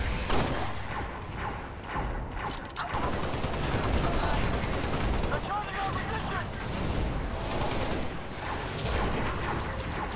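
Repeated game gunfire from Halo: Spartan Assault, including pistol shots, in loud, dense bursts with explosive thumps, filling the whole stretch under and around a player's excited talking.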